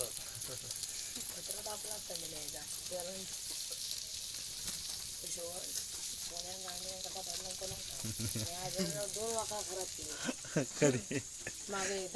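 Chicken pieces sizzle steadily on a clay roof tile over a wood-fired clay stove, with a constant bright frying hiss and occasional stirring, while voices talk over it throughout.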